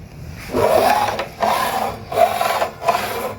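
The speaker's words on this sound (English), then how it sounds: "put this fret dresser on here" Fret dresser filing a metal guitar fret, four short rasping strokes in a steady back-and-forth rhythm, close and clear with brief pauses between passes, no talking.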